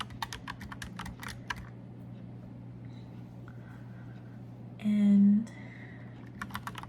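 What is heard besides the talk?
typing on a mechanical keyboard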